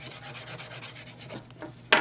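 Rough scraping of a key rubs back and forth against a Moto X phone's plastic back case for a couple of seconds, ending in a sharper, brighter scratch.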